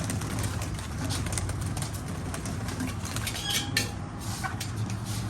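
Pigeons cooing softly amid a steady outdoor hum, with occasional faint fluttering and chirps, no talking.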